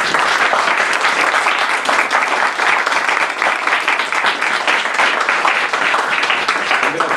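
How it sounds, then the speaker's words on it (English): An audience at Burning Books in Buffalo, NY applauds Peg Millett after her lecture, a loud, even, continuous clapping that holds steady throughout. "let's give Peg a round of applause quick"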